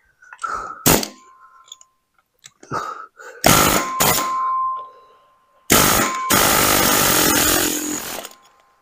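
An impact gun works a nut on a 1940 Chevy engine during teardown, giving short sharp bursts and then longer sustained rattling runs, loud and close, separated by silent pauses.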